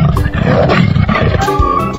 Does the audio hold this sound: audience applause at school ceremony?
no